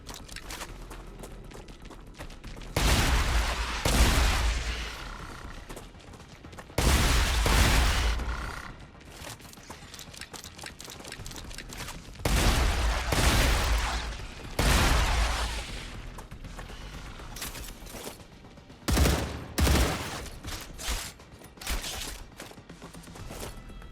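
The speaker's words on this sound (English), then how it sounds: "switch over to the shotgun here" Shotgun blasts in the sci-fi game StarRupture, several heavy booming shots spaced a few seconds apart, each with a rolling tail, the last bursts quicker and more ragged.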